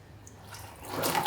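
Coolant gravity-draining from the lowest point of a Kawasaki Ninja 400 cooling system, a faint close trickle and drip that swells louder toward the end.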